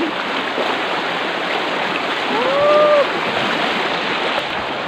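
A strong river current rushes in a steady, loud broadband wash close by, and a faint rising whistle-like tone briefly cuts through midway.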